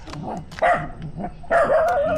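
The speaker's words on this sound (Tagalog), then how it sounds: "Hindi mo napansinin yung aso." A dog barks several times in quick, uneven yips and whines, fairly close and loud, with no talking over it.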